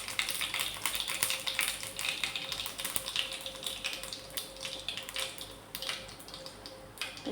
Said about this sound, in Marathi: तेल गरम टाकलं, पहिले मी टाकले मोहरी, आता टाकले जिरे. मी छान चटका देऊन देते.